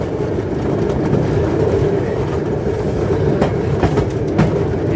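A train rolls into a station at the Pyskowice railway yard in Poland, a steady, close, heavy rumble with rhythmic wheel clacking running throughout and no voices.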